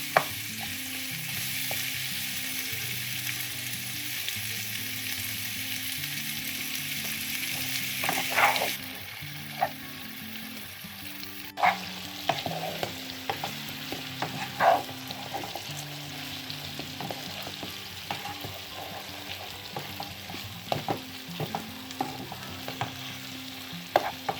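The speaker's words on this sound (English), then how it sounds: "And let these shrimp just cook a little." Jamaican curried shrimp cooking in a pot give off a continuous sizzle, with a spoon scraping and stirring and occasional clinks against the pot, close and steady throughout.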